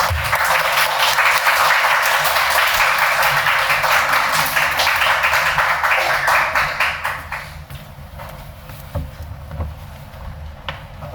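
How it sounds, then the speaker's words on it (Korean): An audience at a church service claps in welcome as a lay elder comes forward to speak, a steady dense round of applause that holds for several seconds, then thins out and fades to a few scattered claps. "나오실 때 환영의 박수."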